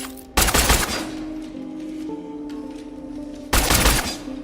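Two loud bursts of rapid gunfire from a weapon in the video game Cronos: The New Dawn, one at the start and one near the end, with a steady electronic hum and game tones in between.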